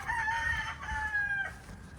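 A Cardinal Reds gamefowl rooster in a breeding cage crows once, a drawn-out two-part cock-a-doodle-doo at moderate distance over low farmyard background noise.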